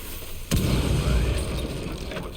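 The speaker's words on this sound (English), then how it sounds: "You're not immune to its explosion." A charge detonating in the Rainbow Six Siege video game, a single sudden deep boom with a low rumbling tail that lingers after the blast.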